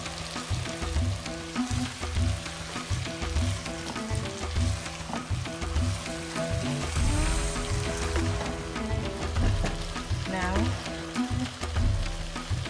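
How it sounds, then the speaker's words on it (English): Chicken pepper fry sizzles steadily in a pan, a loud continuous crackle broken by repeated scraping and clattering stirs throughout. "Give it another stir and let fry for about 3 minutes."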